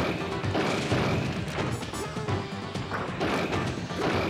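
Captain Falcon lands a smash attack in a Super Smash Bros 64 doubles tournament match, a loud crashing hit sound set against steady crowd noise and game audio.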